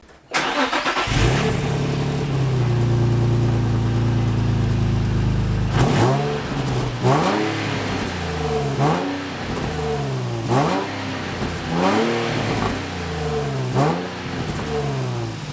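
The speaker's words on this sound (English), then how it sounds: "I'm going to do a rev with the stock exhaust so you can see how that sounds" Nissan 350Z on its stock exhaust starting up and idling, then revved repeatedly in sharp rising-and-falling bursts, loud and close, with no talk over it.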